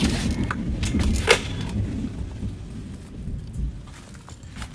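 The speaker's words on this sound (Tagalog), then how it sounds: "Yan, ang kulog." Thunder rumbles low and steady beneath rain falling outdoors, with a few sharper cracks early on before the storm noise eases slightly.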